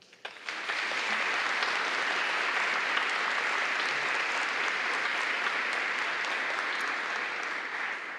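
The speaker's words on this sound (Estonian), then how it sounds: "Ma arvan, et see väärib ka aplausi." Sustained applause from an audience at a school anniversary ceremony, a steady dense clapping that starts abruptly and holds evenly for several seconds before tapering slightly.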